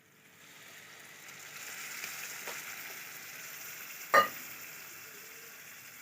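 Water poured into a pan of frying rice with vermicelli gives a soft, steady sizzle and hiss, with one brief sharper splash-like burst partway through.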